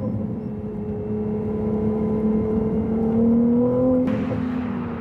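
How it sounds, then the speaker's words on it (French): A Ferrari 296 GTB accelerates hard with a loud, steady engine drone whose pitch climbs smoothly and then drops abruptly on a gear change, heard from inside the car. "Les petits retours d'échappement là, c'est vraiment sympa."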